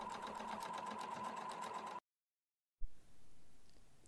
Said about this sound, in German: Bis zum Anfang der Naht weiternähen, ein paar Striche darüber hinaus und die Naht verriegeln.